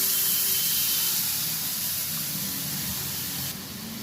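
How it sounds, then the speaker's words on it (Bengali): Water poured into a hot pan of bitter gourd for a karela posto dish sends up a loud, steady steaming hiss that fades slightly toward the end, close by and without talk. "পরিমাণ মতন জল দিয়ে দিলাম।"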